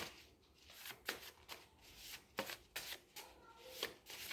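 Tarot cards being shuffled and drawn during a reading, a series of soft riffling swishes and light slaps, quiet and close, with no voices heard.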